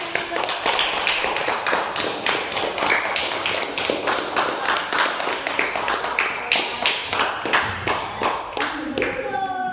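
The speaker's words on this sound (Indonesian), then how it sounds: "Tepuk tangan untuk" Schoolchildren in a classroom clap their hands together in a quick, steady rhythm of sharp taps, fairly close and loud, running nearly the whole time before fading near the end as a voice begins.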